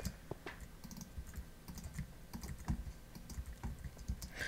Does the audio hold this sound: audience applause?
no